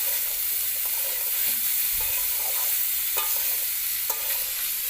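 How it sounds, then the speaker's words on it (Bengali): Chili-spiced potato fry stirred in a pan over a clay stove: a constant close sizzle of frying, broken by repeated scraping stir strokes, with no voices. "সব কিছুকে ভালো করে মিক্স করে নেওয়া হচ্ছে নাড়িয়ে চাড়িয়ে"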